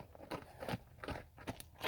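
A horse chews close up, giving crisp crunching bites and grinding mastication in an irregular rhythm of about five or six distinct crunches, with no talking.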